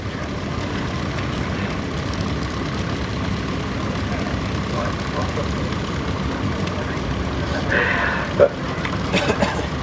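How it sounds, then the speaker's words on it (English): A vintage tractor's 3-cylinder Perkins diesel engine idles with a steady low rumble in a steam fair show ring, while people talk faintly nearby. "It's powered by a 3-cylinder Perkins diesel engine."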